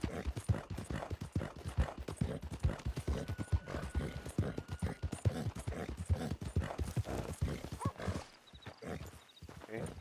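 Horse hooves clip-clop in a steady, continuous rhythm throughout in Red Dead Redemption 2, a wagon-hauling scene, with occasional whinnies and a voice talking over the hoofbeats.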